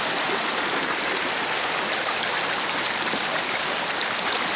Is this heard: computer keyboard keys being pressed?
no